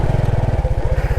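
A motorcycle ridden on a rainy road in Vietnam gives a close, steady pulsing engine chug with a fast, even beat, loud against a wash of road and wind noise.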